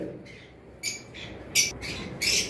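Several sharp, harsh cockatiel squawks in short bursts, close and loud, separated by brief pauses.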